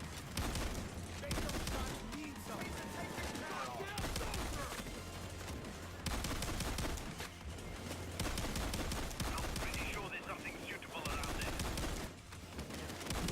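A Grim shotgun loaded with Dragon Breath rounds firing in Payday 2, rapid loud repeated blasts in bursts across the whole stretch, with game sounds mixed in and a voice under the shots.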